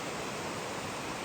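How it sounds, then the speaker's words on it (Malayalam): Clear stream water flows past a junction where small streams meet, making a steady, even rushing hiss with no voices over it. "ഇതായി വെള്ളം ഇങ്ങനെ പോവുകയാണിത്, കണ്ടോ"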